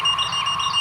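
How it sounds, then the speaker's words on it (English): A non-contact voltage tester held to a live household circuit while wiring a Victorian house for air conditioning gives off a continuous high electronic tone, steady and fairly loud for under a second with no voices. "if there's any power there, it's going to flash red and it might beep at you too."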